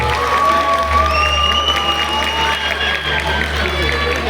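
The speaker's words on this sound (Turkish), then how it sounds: "Şimdi de büyük alkışlarla yine Bahçelievler Olimpik Spor Kulübü'nün U15'ini buraya davet ediyoruz." Applause and cheering from an audience at a sports club awards night as the U15 national-championship finalist team is called up, continuous clapping under a voice and some whistles.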